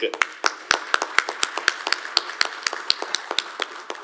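An audience at a CIO and leadership conference claps in a scattered, uneven patter of sharp hand claps, fairly close and moderately loud, with no talking over it.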